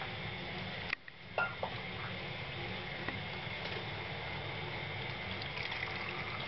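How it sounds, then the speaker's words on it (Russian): Hot water pours into the thermostat housing of a rear-wheel-drive VAZ car, a quiet steady trickle and splash with a brief clunk near the start. "Начинаем сейчас заливать горячую воду."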